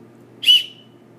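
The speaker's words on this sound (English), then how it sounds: "you've got your whistle." One short, sharp blast of a shrill whistle from a backcountry shovel kit, close by and loud, lasting a fraction of a second over quiet background hum.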